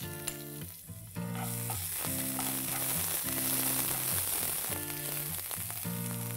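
Cumin seeds and finely chopped ginger hit hot oil and crackle in a loud, dense sizzle that carries on without a break. Tonal background music plays underneath the frying.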